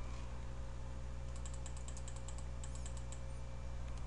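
Rapid keystrokes on a computer keyboard while entering program code, a quick run of light clicks in the middle over a steady low hum from the room or computer.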